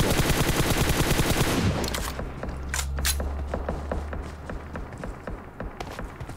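Enemy gunfire in a Runic Power mode shooter match, rapid dense automatic bursts at first, then thinning into scattered sharp shots with footsteps, loud and close.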